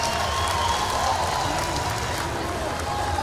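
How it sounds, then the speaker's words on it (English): A standing crowd at a Karate Combat fight between two women, Omaira Molina and Ana Ferreira, fills the arena with a continuous roar of cheering and applause, steady and fairly loud throughout. "the crowd on their feet here for the two ladies"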